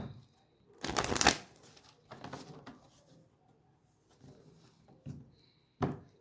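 Brisk tarot card shuffling in a few separate bursts, one longer riffle followed by shorter quiet shuffles and pauses, close up.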